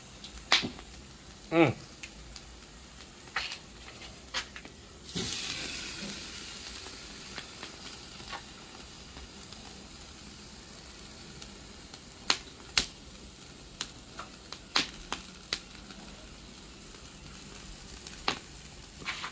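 Steaks sizzle on a small outdoor fire, a soft steady frying hiss with sharp crackles and pops scattered throughout, growing fuller after the meat goes on.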